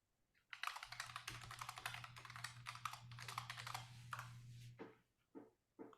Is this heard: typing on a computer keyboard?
yes